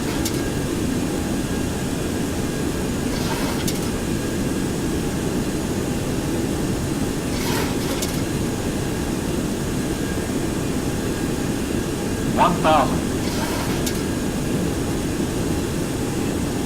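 The jet engines of a Boeing 727 on landing approach give a steady, loud, broad roar inside the cockpit. A few faint clicks and short tones sound over it, and there is no speech.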